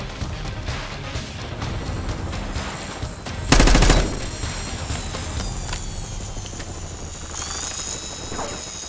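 Rapid automatic gunfire in a Call of Duty match, dense bursts over a constant helicopter-like drone, with one sharp, loud explosive blast partway through and mechanical whines afterward.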